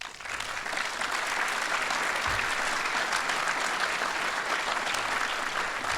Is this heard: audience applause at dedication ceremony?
yes